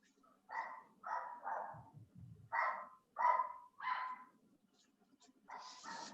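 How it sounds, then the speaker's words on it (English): A dog barks in a quick series of sharp, loud barks with short gaps between them, along with a few low whimpers, heard close by in a room. "Sorry, my dog is barking here"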